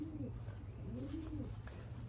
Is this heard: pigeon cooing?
yes